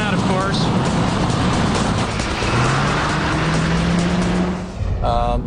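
Corvette accelerating hard on a road, a loud continuous engine roar rising in pitch through the gears, with someone talking over it near the end.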